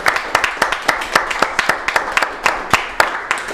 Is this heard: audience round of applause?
yes